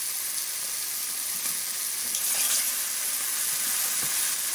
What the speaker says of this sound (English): I'm going to start bringing over some mushrooms and dropping them into the pan.